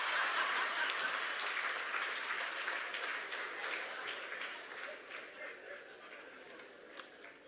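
Audience at an annual conference applauding the chair, a burst of clapping that starts strong and gradually thins out and fades, with a few scattered claps lingering near the end.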